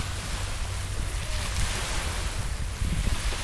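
Gentle water lapping at the edge of a very small river beach, a steady soft wash with low rumbling wind noise throughout, no voices.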